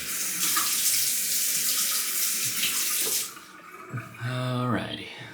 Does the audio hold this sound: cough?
no